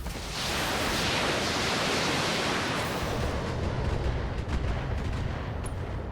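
Heavy mech weapons in BATTLETECH unleash a loud, dense roaring barrage that swells quickly and stays sustained, with rumbling blasts and crackle layered through it.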